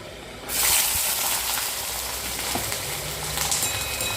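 Garlic hits a hot pan already holding sautéed ginger and perandai, bursting into a steady, close sizzle that hisses on evenly, with a few soft stirring clicks.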